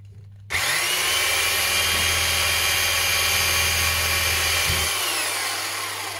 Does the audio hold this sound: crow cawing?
no